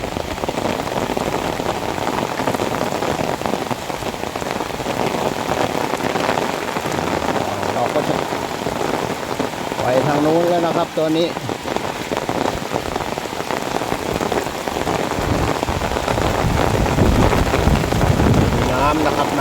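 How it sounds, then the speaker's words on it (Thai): Heavy rain pours down in a steady, dense hiss over a garden, with someone speaking briefly partway through. "ตอนนี้ก็ฝนตกอย่างชุ่มฉ่ำ"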